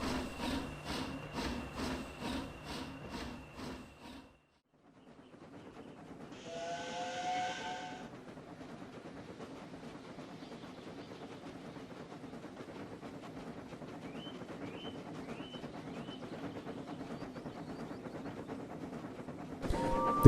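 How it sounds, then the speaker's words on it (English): A chugging rhythmic train sound stops, then a steam whistle blows once, followed by a long hiss and rumble of a departing engine. "The odd-looking train departed."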